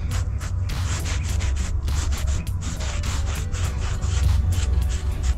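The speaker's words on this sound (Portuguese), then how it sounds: "é bom a gente passar uma lixa, que a lixa ela vai limpar aqui as rebarbas" Sandpaper scrubbing a piece to clear off burrs before foam is applied, in a Greek-effect DIY decoration project. The sound is close and loud, made of rapid repeated rasping strokes with no talking.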